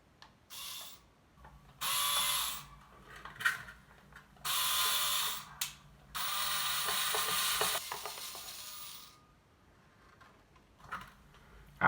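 Repeated bursts of rapid ratcheting clicks as a part is screwed into its mounting on a self-built Strat-style electric guitar, close up, with short pauses between the turns.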